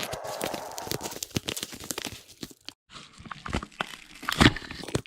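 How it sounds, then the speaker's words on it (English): Crinkly plastic packaging of model car supplies rustles and crackles up close as it is cut with a hobby knife and pulled apart, with a brief pause midway and a louder crunch near the end. "with the hobby knife instead. That'll be easier to open this package up right away."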